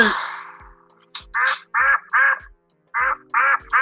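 A duck quacks repeatedly in a sound effect, a run of loud, nasal, evenly spaced quacks with brief pauses, clear and close with nothing else behind them.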